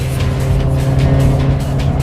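A Nissan Silvia S15 Spec R engine drones loud and close, a steady throaty hum with slight pulsing surges, heard briefly and alone without voices.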